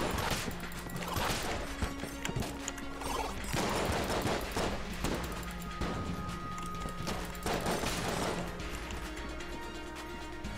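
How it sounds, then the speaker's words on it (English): A dense, rapid barrage of bouncing bullets and gunfire in the game Enter the Gungeon, clattering steadily throughout with repeated sharp impacts and brief tonal game effects. "So many friggin' bouncing bullets."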